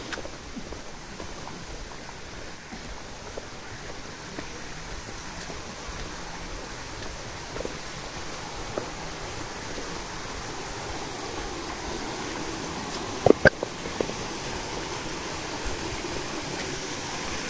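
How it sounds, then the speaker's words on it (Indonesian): Steady broadband rush of a river flowing beside a path climbing toward the Tibu Giong waterfall, continuous and even throughout, with a few faint knocks near the end. "Sungainya di kanan."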